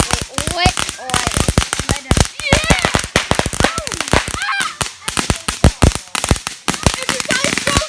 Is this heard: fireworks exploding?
yes